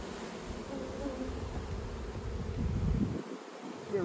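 Honey bees swarm around an open, strong hive during a winter honey harvest, a dense steady buzz filling the air close by, with faint rustling underneath.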